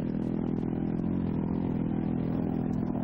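A KTM rally motorcycle at the Rallye de l'Atlas gives a continuous buzzing engine drone with a steady rhythmic pulse, moderately loud and unbroken for the whole stretch, with no voices.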